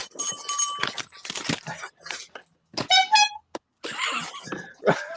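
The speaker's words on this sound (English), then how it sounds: "a clown honk" A handheld clown honk horn is squeezed, giving short bright nasal honks in quick bursts between loud nearby voices and laughter of people talking.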